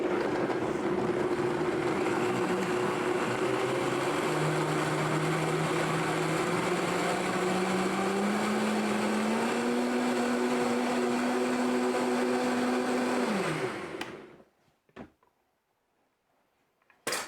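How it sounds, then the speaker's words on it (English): A blender whirs steadily while blending soaked ingredients for banana-walnut bars, a loud continuous motor drone whose pitch climbs partway through, then cuts off abruptly, followed by near silence and a couple of clicks. "And we are going to blend this up."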